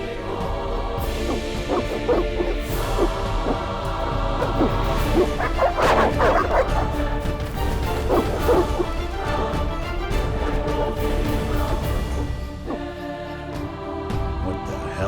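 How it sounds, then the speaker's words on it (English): Dogs barking in The Witcher video game, a loud, continuous stretch of barks and yelps over game music and a busy mix, with crashes mid-clip. "These dogs are deadly."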